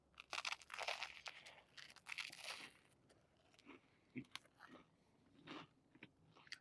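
Someone bites into a hot honey creeper sausage topped with hot honey and chews it up close, with a few sharp crunchy bites early on, then quieter, intermittent chewing and smacking sounds.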